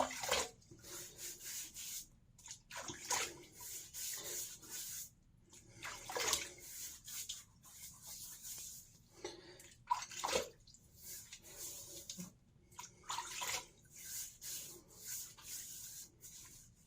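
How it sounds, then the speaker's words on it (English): Hot water running and splashing while a head is wetted before a shave, in irregular soft bursts with rubbing sounds, fairly faint and close, with no talking. "Get me some hot water."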